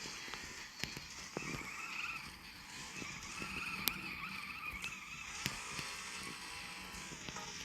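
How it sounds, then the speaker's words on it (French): A BMW drifting in the racing video game Off the Road 2, with a steady wavering engine-and-tire skid tone running throughout at low level, broken by a few sharp clicks and knocks. "Nous, on est là pour du drift."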